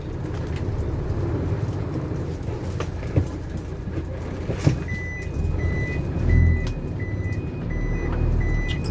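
A dump truck engine drones steadily while driving, a loud low rumble with a few knocks and a periodic reversing-style beep pattern rising over it, heard from inside the cab with no talking.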